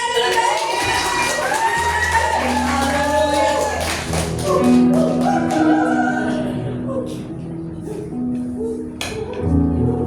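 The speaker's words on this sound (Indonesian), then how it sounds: "Tepuk tangan dulu deh." A church congregation at a Sunday service claps and cheers after a testimony, a loud, lively crowd with children shouting, voices rising and falling over sustained clapping that thins out toward the end.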